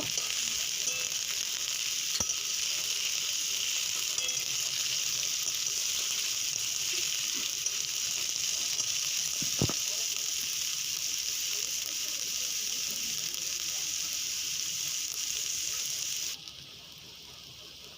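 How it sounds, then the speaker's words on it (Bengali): Potato and cauliflower frying over a medium flame give a steady, close hiss that runs unbroken for most of the stretch, with a couple of sharp utensil clicks, before the sizzle drops off abruptly near the end. "আলু আর ফুলকপিটা আমি মিডিয়াম ফ্লেমে ভেজে নেব কিছুক্ষণ, 2-3 মিনিটের মতো আলু আর ফুলকপিটা ভেজে নেব।"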